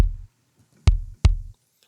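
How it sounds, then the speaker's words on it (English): Three deep, punchy triggered kick drum sample hits in Ableton Live with sharp attacks and short low decays, the first at the start and two more closely spaced, no other sound. "triggered kick, sounds like this."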